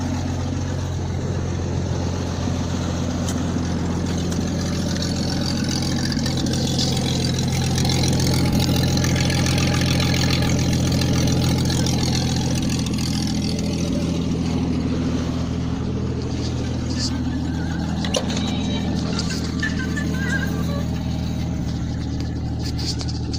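A 1996 Jeep Cherokee engine idles through a fart-can downpipe exhaust with a low, muffled exhaust rumble, steady and close throughout, with a slight swell in the middle and no talking.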